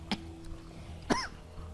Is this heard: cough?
yes